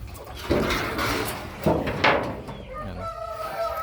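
Brahma and Rhode Island chickens clucking in a free-range yard, several short close clucks and squawks in bursts, with a faint background hum and a higher, tonal call near the end.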